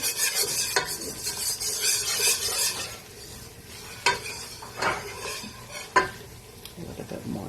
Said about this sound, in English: I'm going to mix the flour with the butter.